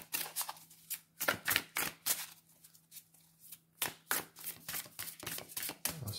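Symbolon cards are shuffled in quick, crisp riffling bursts that come in clusters with short pauses between them, close and fairly loud, with no talk over them.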